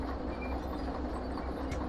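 Locomotive in the Derail Valley train game starting to reverse, a steady low rumble and broad rail noise throughout with no clear clicks, loud and continuous.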